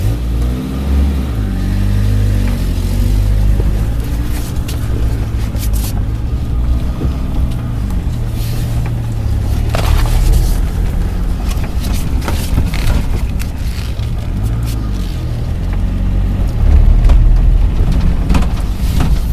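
A Suzuki Samurai engine fitted with a Toyota carburetor runs steadily while driving, a loud, continuous mid-pitched drone that swells slightly near the end as it pulls, with no talking.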